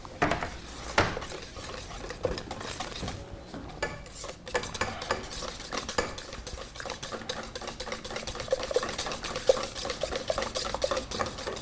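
A utensil stirs melted chocolate and butter into eggs in a bowl for a fruit tart, quiet scraping and clinking strokes repeating irregularly with soft wet mixing underneath, no talking.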